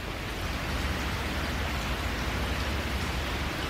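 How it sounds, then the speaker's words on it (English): Steady rain pours in a dense, even hiss that stays loud and unbroken from start to finish. "Yep, it's raining, everybody."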